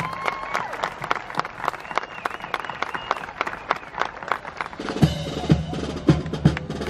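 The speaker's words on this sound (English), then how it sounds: "Folks, give her a big round of applause." Crowd applause and scattered cheers at the Magic Kingdom's Fourth of July flag retreat ceremony, a steady wash of clapping from a large outdoor audience that turns into louder, punchier claps near the end.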